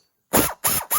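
A ratchet wrench turns to spin a brake carrier bobbin on a Concours 1400, giving three quick, close clicking strokes after a moment of silence.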